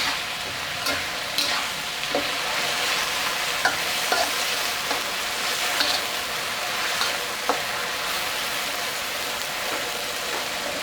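Chinese kale stir-fried with salted fish in a hot pan, loud steady sizzling under repeated scraping and tapping strokes of a stirring utensil, close and with no voices.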